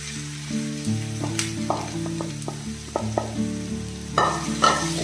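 Marinated chicken fries and sizzles in a pan while a utensil stirs it, scraping and clinking in irregular bursts over a steady hot frying hiss, close up with no talking.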